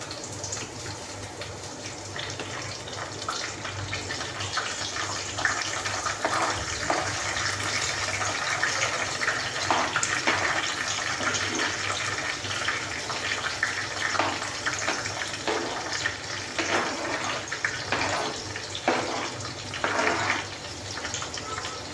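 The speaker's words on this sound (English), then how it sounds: "Now I'm going to just fry them with the onions" Sausages fry with sautéed onions in hot oil over a reduced flame for a spicy Malay sambal dish, giving a steady, close sizzling hiss with scattered crackles and pops throughout.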